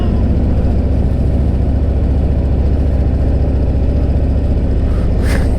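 A Harley-Davidson Milwaukee-Eight engine on a Freewheeler trike runs on its own at a loud, steady, throbbing high idle after a fly-by-wire runaway fault, with a deep low pulse throughout.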